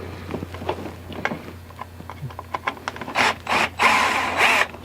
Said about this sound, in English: So we are using my cordless screwdriver tool